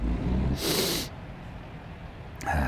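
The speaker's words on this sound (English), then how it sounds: "got a little bit of a sniffle going on" A person gives a single sharp sniffle through the nose, close and loud, heard over steady low road and engine rumble inside a truck, followed by a brief breathy noise.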